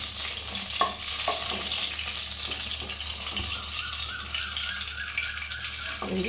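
Eggplant slices fry in hot oil with a steady, loud sizzle and crackle that holds throughout, with occasional stirring sounds and no talking.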